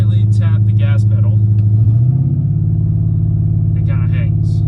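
A car engine idles steadily, then a light tap on the gas pedal lifts the revs, and the idle hangs at the higher pitch instead of dropping back, a fault with the idle control. The engine is close and constant, with a voice over it.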